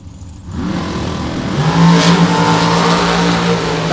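A drag racing car launches hard off the starting line at full pull, its engine snarling loud and close as it climbs steadily in pitch through the run.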